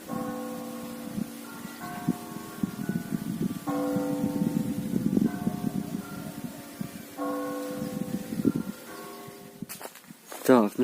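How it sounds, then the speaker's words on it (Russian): Church bells of the Lyadova monastery ring out across the Dniester river, a sequence of resonant tolls with lingering overtones, heard outdoors beside footsteps, rustling and handling noises close by. "Слышны колокола Лядовского монастыря."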